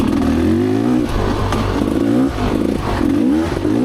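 A Rieju Ranger dirt bike with an aftermarket exhaust pipe accelerates in third gear on a single-track trail, its loud engine revving and rising in pitch close by, with clattering bumps along the way.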